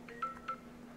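Two short electronic phone keypad beeps a fraction of a second apart, heard close and alone over a faint steady background hum while the phone is switched to do-not-disturb.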